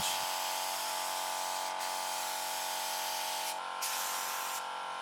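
A steady, loud hiss of a spray tool loosening rust from an old car body runs almost continuously, with two brief breaks where the spray stops and restarts, over a faint mechanical hum.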